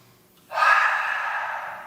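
A forceful cleansing breath pushed through the nose in a yoga class is a sudden, close, hissing rush of air that starts sharply and fades gradually over about a second and a half.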